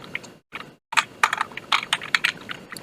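Python code is typed on a computer keyboard in quick, irregular bursts of crisp key clicks, loud and close, with two short pauses near the start.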